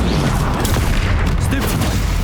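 Spell blasts from Confringo and Expelliarmus in Hogwarts Legacy, a continuous barrage of loud, crackling booms and bursts in quick succession, with shouted incantations under the noise.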